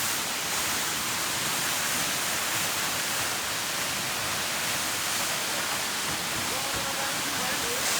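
The Fungfungey waterfall in Nuwakot rushes in a dense, continuous broadband roar, close and steady throughout with no pauses.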